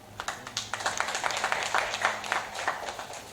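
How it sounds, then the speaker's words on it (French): Audience at a graduation ceremony for adult and youth literacy program learners in Madina Baffe and Bembou claps steadily, a moderate, continuous patter of many hands with no talk over it. "Cette première cohorte mérite des applaudissements."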